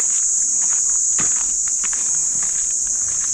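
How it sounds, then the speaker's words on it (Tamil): A steady, loud high-pitched insect drone fills the air on a forest path near Dindigul, with faint scattered footsteps or rustling beneath it. "காட்டுப்பாதையில் நடக்கும்போது பூச்சிகளோட ரிங்காரத்தை கேட்குறதே ஒரு தனி சகம்தான்"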